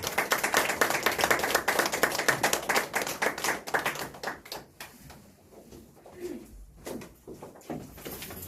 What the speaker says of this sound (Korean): 우리 큰 박수로 환영해 주세요.